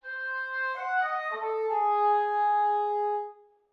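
A dry woodwind ensemble sample recorded on a tree microphone array without reverb plays a short sustained chord passage, several clean held tones shifting together, close and clear with no room tail.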